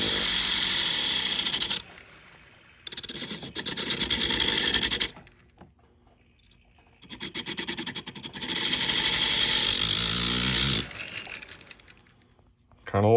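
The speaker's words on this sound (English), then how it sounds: "I'm going to take this little cutoff disc. If you can see, it's just a thin abrasive disc." A thin abrasive cutoff disc grinds along the seam where two joined rings meet, a close, steady high whine in long bursts broken by short pauses as the disc lifts off the metal.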